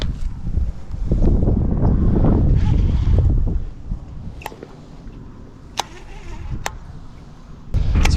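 Gusty wind blowing outdoors on a cold winter fishing outing by the water, a loud rumbling buffet for the first few seconds, then easing to a steadier low rush with a few sharp ticks before rising again.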